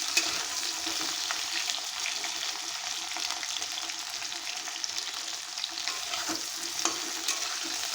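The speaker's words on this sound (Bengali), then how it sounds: "খুব অল্প তেল দিয়ে আমি মাছটা রান্না করব" Rohu fish fries in a small amount of oil, a fairly quiet, continuous sizzle with faint crackles and some stirring-like scrapes, steady from start to finish with no talking.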